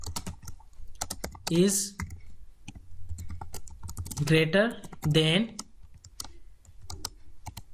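Computer keyboard typing while entering C++ code: rapid, close clicks and taps in uneven bursts, running under a man's explanatory speech throughout.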